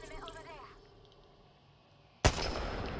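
A single sharp, loud Kraber sniper rifle shot in a first-person shooter game, cracking suddenly after a quieter stretch of faint game ambience and trailing into a lingering, noisy echo.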